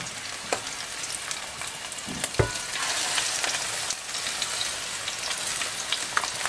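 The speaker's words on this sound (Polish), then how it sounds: "dorsz trzeba smażyć szybko" Battered cod fries quickly in a hot pan, giving a steady crackling sizzle with occasional louder pops and stirring.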